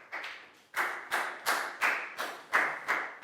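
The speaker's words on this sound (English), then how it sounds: "Big round of applause for Net" A class claps in unison for a student, about eight evenly spaced, fairly loud rhythmic claps with no talking.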